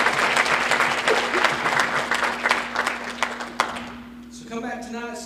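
A church congregation at a Sunday morning worship service gives a burst of applause that gradually thins and fades out, followed by a faint voice at the end.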